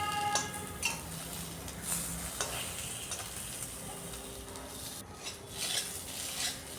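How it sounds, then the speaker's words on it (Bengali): Potatoes frying slowly in a kadai over low gas flame while being turned, giving a steady soft sizzle with occasional scraping and clinks of a spatula against the pan. "গ্যাসের হিটটা কম রেখে উল্টে পাল্টে ভাজছি আলুগুলোকে"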